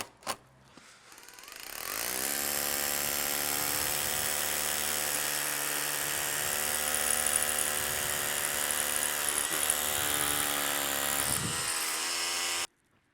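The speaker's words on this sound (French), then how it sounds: "on perce ici avec au 8 mm au perforateur et là on met une vis" A rotary hammer drills an 8 mm hole while a garden shed is fixed down: a loud, steady motorised whine with hammering texture that starts after a brief knock, runs continuously for about ten seconds, then cuts off abruptly.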